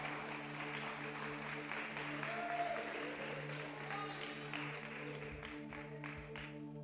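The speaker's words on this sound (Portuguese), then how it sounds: "deu uma salva de palmas bem forte para nosso Senhor" A church congregation applauds their Lord, seated, in a steady wash of clapping that holds level throughout, moderately distant, with faint background hum and no clear voices.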